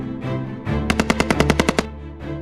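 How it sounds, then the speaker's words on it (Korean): Rapid burst of World War I machine gun fire at the Battle of the Somme, about ten evenly spaced sharp shots in quick rhythm over a low rumbling battlefield background. "예기치 못한 기관총 세례에 그야말로 쓸려 나갑니다"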